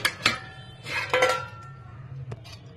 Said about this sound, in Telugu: ఇప్పుడు కుక్కర్లో వేసేస్తున్నానండి అన్ని.